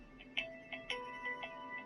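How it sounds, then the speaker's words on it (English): A phone's ringtone plays an incoming-call melody of short, bright chiming notes in a quick pattern, faint and alone over quiet room tone. "I'm getting a phone call"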